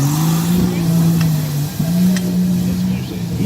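A mud bog truck at a logging day mud bog event, its engine roaring loudly and steadily while climbing in pitch, dropping briefly at a gear change and then revving up again, with people talking over it.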